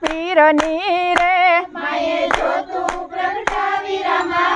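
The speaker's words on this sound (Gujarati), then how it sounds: "હે તાળી પાડો લીરબાઈ માના નામની રે" Sharp hand claps keep a steady beat through a devotional song to the mother goddess Lirbai, with sung vocals continuing over the loud, close claps.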